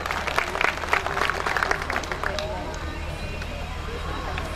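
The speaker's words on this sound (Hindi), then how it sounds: "उन सभी शायरों का, उन सभी विभूतियों का एक बार जोरदार स्वागत आपकी तालियों से।" Audience applause welcoming poets at a mushaira, a live Urdu poetry event at Patiyali in 2014; dense, steady clapping from a large crowd fills the whole stretch, loudest at the start and then settling into an even roar.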